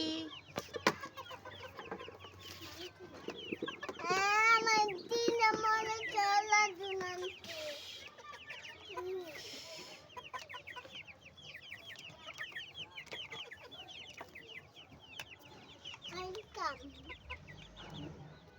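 Chickens cluck and squawk close by in a lively, irregular series at a rural fair, with voices talking in the background.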